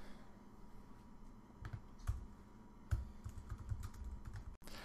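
Typing on a computer keyboard while writing app code, a quiet stream of irregular soft key clicks with a few sharper taps, close and alone.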